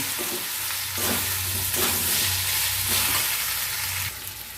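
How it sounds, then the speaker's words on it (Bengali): Spices with Kashmiri chilli powder frying in a pan, a dense continuous sizzle with low scraping strokes of stirring running under it, easing off near the end; no voices. "এবার এই সমস্ত মশলাগুলিকেও আমি নেড়ে চেড়ে ত্রিশ সেকেন্ডের মতো একটুখানি নেড়ে চেড়ে নেব"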